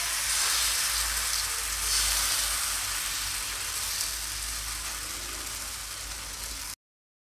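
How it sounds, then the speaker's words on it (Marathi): Jowar flour batter for dhirde sizzles on a hot oiled tawa, a steady close crackling hiss that holds at an even loudness throughout with no voices. "आपला तवाही चांगला तापला आहे आणि त्यावर तेल आता पसरून झालेलं आहे। आपण आता यावर पीठ टाकूया"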